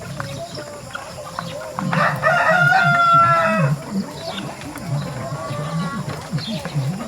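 Hybrid turkeys call from a farmyard at morning feeding: low clucking and gobbling-like sounds, with a louder burst of squawks in the middle, fairly close.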